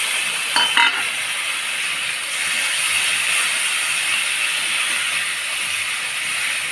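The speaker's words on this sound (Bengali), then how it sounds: "দিয়ে আমি মশলাটা ভালোভাবে কষিয়ে নেব" Spice paste with chopped tomato fries for an eel curry, giving a loud, steady sizzling hiss throughout, with a brief clatter of stirring near the start.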